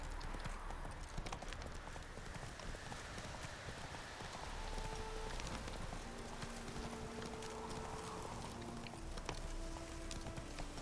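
Hooves of Roach, the horse in the Witcher 3 video game, clip-clop at a steady gallop throughout, loud and continuous, over a bed of rain and ambient game noise, with faint tonal music-like notes in the background.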